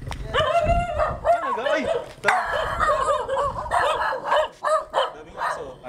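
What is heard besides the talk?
dogs barking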